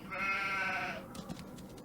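A single drawn-out sheep bleat from a Nancy Drew mystery game set at Castle Malloy, close and clear for about a second, then trailing into quiet with a few faint clicks.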